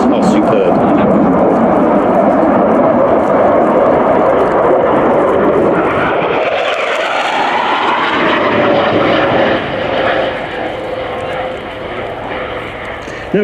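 A JAS-39 Gripen jet fighter makes a high-speed flypast at an airshow display, a loud broad roar that swells and then sweeps down in pitch as it passes, with a commentator talking over it throughout.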